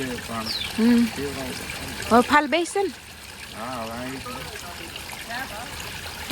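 Water trickles and flows steadily in an outdoor spot where pots are being filled, a continuous soft wash running under a person talking throughout.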